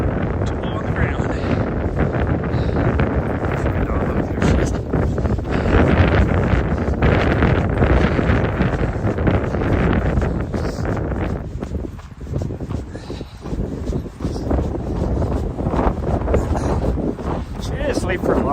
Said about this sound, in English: It's the wind.